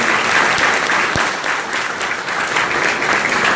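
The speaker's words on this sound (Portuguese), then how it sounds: "Uma salva de palmas aqui para os" A conference audience gives a round of applause, a dense, steady wash of clapping from many hands that holds loud and even from start to finish with no talk over it.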